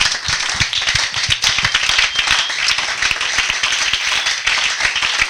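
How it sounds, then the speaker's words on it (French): Church congregation at a Sunday service applauding together, dense steady clapping with sharp individual claps, loud and sustained throughout with no talk over it. "On apprécie la parole de Dieu par les acclamations."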